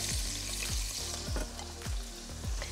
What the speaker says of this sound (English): And I'm gonna add my sliced shallots.